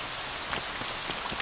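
Rain falling in the video game Saints Row 2, a dense, continuous patter of drops hitting surfaces, loud and steady with no voices.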